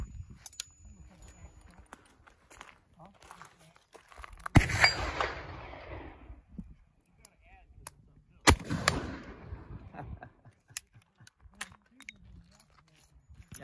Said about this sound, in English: I'm supposed to shoot at Mr. Dull White instead.